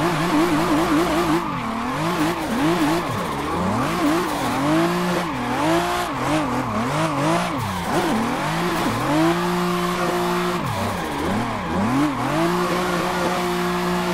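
A car drifts in the Assetto Corsa racing game on a compound map, its engine revving up and down in wavering surges with tire squeal, loud and continuous throughout.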